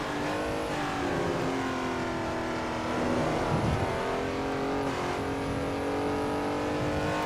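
A Ferrari Daytona race car engine in the iRacing sim at Road Atlanta holds a loud, sustained high rev with rising and falling pitch through gear changes, steady and close, with no talking.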